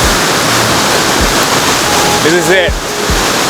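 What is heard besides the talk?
waterfall at Helton Creek Falls, North Georgia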